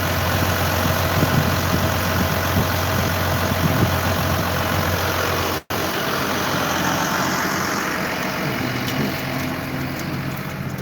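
A Case IH MX255 tractor engine runs steadily at a low idle on wet, muddy ground. The loud, close diesel rumble is constant, with one brief cut partway through, and no one speaks.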